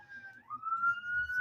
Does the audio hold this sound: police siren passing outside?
yes